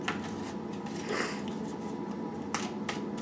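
Tarot cards shuffled by hand during a reading, a steady papery riffle with a few sharper flicks and slaps, close and fairly quiet, with no talking.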